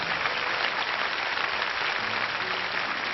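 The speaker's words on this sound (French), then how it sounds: "je pense qu'on va applaudir le jury" Studio audience on a 1998 French television show applauding the jury, a steady, continuous wash of clapping without pause.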